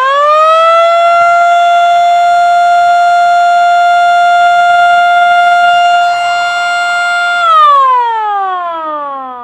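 An MS390 electronic siren sounds during a test alongside its warning light, holding a loud steady wailing tone for several seconds, then falling in pitch as it winds down; the sound is alone with no talk.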